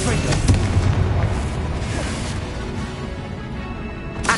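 A Confringo blasting spell goes off in Hogwarts Legacy, a loud booming explosion with a rumbling tail that rolls on for several seconds and a second thump near the end, with a voice faintly mixed in.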